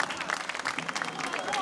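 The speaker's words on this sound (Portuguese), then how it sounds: "Muito obrigado pelos vossos aplausos." Brief audience applause at a folk dance festival, a dense patter of clapping with a voice speaking over it.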